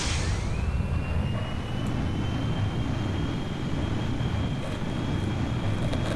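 An aircraft taking off in a video game, with a loud constant rumbling engine roar and a rising then steady whine, close and unbroken with no talking.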